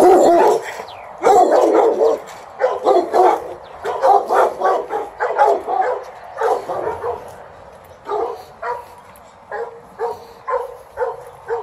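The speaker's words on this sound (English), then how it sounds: "the dogs are here for grooming and such." Several dogs in a grooming kennel bark in loud, overlapping bursts that echo in the room. The barking is dense at first, then breaks into a steady run of separate barks.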